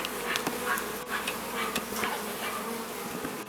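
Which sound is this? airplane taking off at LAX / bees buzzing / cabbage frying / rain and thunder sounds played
bees buzzing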